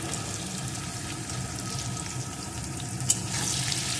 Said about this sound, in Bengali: এখন পেঁয়াজ কুচিটাও একটু ভেজে দেব।